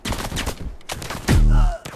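Gunshots fire in the VR shooter game Code 7, a rapid run of sharp close cracks followed by a louder sustained burst near the end.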